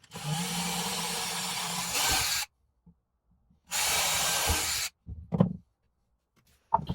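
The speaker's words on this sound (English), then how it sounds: "I used them 2 holes and drilled a pilot hole into the wood." A power drill bores a pilot hole into wood, running in two steady bursts of about two seconds each with a pause between, followed by a few brief knocks and handling sounds.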